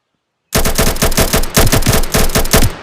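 Rapid bursts of AK rifle fire in the GrimVR game, a loud, close, continuous automatic stream lasting a couple of seconds after a moment of silence.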